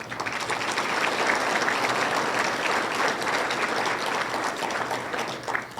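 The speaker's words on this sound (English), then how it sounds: "a round of applause and a huge thank you to ICO" An audience at a regional State of the Region event applauds steadily, dense sustained clapping from a large crowd holding at an even level throughout.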